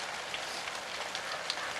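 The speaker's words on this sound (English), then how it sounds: "it's raining" Steady rain falling outdoors in Surrey, a continuous broadband patter of drops with a few slightly louder individual hits, moderately faint and heard alone.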